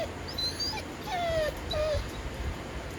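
A dog whimpers and yips in a few short, high, drawn-out whines over about three seconds, heard near and alone at a homestead where ducks and chickens are kept.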